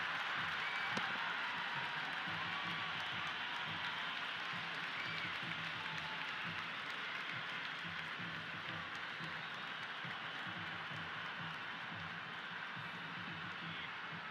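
Stadium crowd noise in the Cricket 26 video game during an India vs Pakistan Under-19 World Cup match: a steady, distant roar of applause and cheering that holds evenly throughout.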